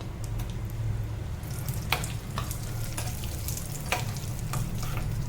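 A handful of raisins roast in a pan, giving a continuous low frying hiss broken by sharp scrapes from stirring, close and moderately quiet.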